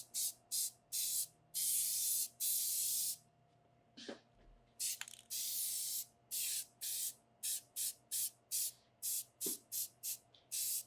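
Short bursts of spray paint hissing onto a metal sculpture being coated blue, a steady run of quick close blasts with brief gaps between them.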